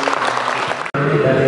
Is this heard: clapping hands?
yes